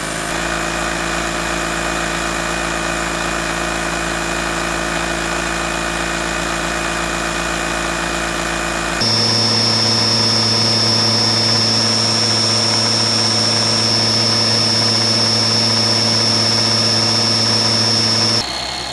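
Vacuum cleaner power nozzle motors running at steady speed, a loud continuous whirring drone with tonal hum that shifts pitch midway as a second nozzle takes over, with no talk.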